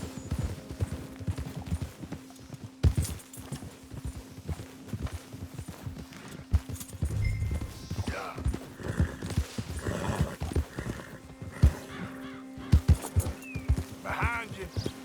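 A horse's hooves clop in Red Dead Redemption 2, an irregular run of near, sharp steps with a whinny partway through, a steady hum beneath, and a voice talking over parts of it.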